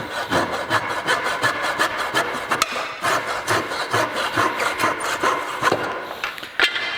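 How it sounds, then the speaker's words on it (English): A small power sander works over a wooden barber pole turned on a wood lathe, giving a loud, steady rough whirring and rubbing with uneven surges and occasional scraping knocks. "I'll take a little power sander and we'll smooth that up"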